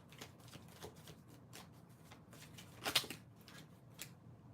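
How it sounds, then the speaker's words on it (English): Tarot cards are shuffled by hand during a live reading, with soft, quiet riffling close by and one brighter snap of cards near the middle. "Give me one moment for shuffling these cards."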